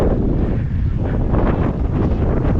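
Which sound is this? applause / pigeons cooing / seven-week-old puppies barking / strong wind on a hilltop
strong wind on a hilltop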